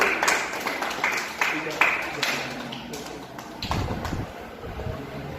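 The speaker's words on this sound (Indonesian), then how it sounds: "Kita berikan tepuk tangan untuk kelompok 1." Classroom applause for a student group, a loose run of separate hand claps over about five seconds with faint room chatter underneath, moderately close and uneven in rhythm.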